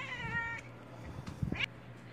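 A small domestic cat gives one clear drawn-out meow at close range, followed by quieter rustles and a brief, higher squeaky mew, with no talking.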